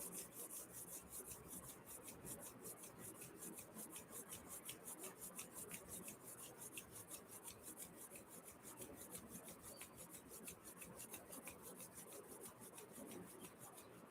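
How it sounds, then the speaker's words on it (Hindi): Two hands rubbing together, a continuous soft rasping swish that is very quiet and close, with no voices. "अपने दोनों हाथों को आपस में रगड़ लें।"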